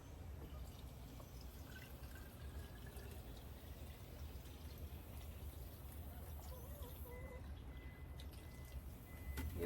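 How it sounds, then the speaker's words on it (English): Water pours and trickles steadily into a jar holding dragonfruit cuttings, a soft, continuous liquid sound that stays fairly quiet throughout. "and then I'm going to add water."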